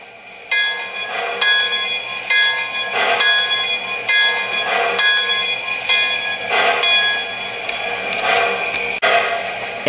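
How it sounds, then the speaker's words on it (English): An MTH model of the Central Pacific Jupiter locomotive rings its bell in a steady, repeated electronic clang, each strike bright and ringing, sounding close and fairly loud over roughly ten seconds with no talk. "Here's the bell."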